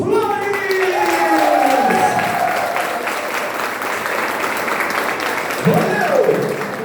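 Audience applause welcoming a speaker at an education seminar honouring teachers, steady crowd clapping under loud whooping and cheering voices, sustained throughout.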